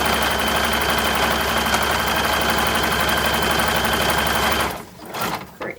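Modern serger stitching fabric runs as a steady, loud mechanical whir close by for most of the clip, then stops abruptly near the end, leaving quieter handling noises.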